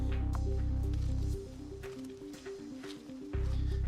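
Oil squished and worked by hand into a foam air filter from a Yamaha XT225 motorcycle, soft wet squelches beneath a steady low hum.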